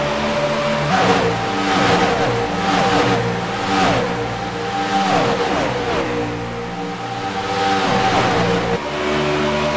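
A race car engine that is running hot screams at Daytona in the NORDTONA 500 wildcard race, revving loud and near with repeated rising gear-change sweeps as it accelerates over and over.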